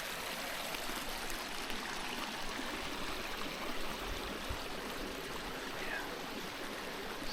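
A small creek beside a backpacking campsite flows with a steady, close babble and trickle, continuous and unbroken throughout.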